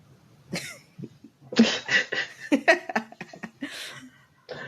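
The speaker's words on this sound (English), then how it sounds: "if you see me coughing or dying up a lung, don't worry" Several harsh, bursting coughs from a person with a cold, close to the microphone, coming in an irregular cluster with short pauses between them.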